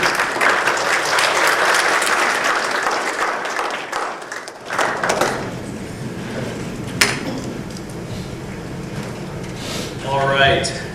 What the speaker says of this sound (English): Let's give our presenters one more round of applause.